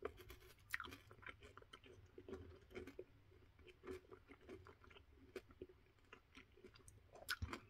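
Sugar-free peppermint caffeine energy gum from Furocity is chewed close to the mic, giving soft wet squishes and clicks in an irregular rhythm at low volume.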